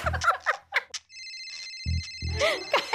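A telephone rings with an electronic tone in a long continuous burst, heard indoors at moderate volume. Short bits of talk and other sounds come before and after it.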